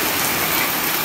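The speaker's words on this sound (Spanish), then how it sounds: "ya ha venido fuerte el agua" Heavy rain pours down steadily in a thick, unbroken hiss, loud and close, with no voices over it.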